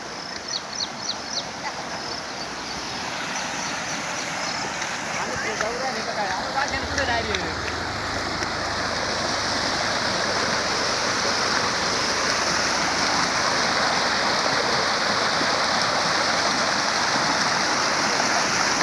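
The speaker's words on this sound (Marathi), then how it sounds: "नगरसूल शिवारात पावसाची जोरदार बॅटिंग" Heavy rain with water flowing through crop fields in Nagarsul, a dense steady roar of rain and rushing water that swells and holds loud and constant.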